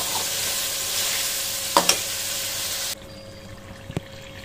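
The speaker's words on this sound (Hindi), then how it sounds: "इसको तकरीबन 4-5 मिनट हम भुनेंगे, लाइक फ्राई करेंगे ऑयल के अंदर।" Onion and spices frying in oil for palak chicken, steady crackling sizzle with a couple of spoon clinks against the pan, then the sizzle drops away to a quieter hum.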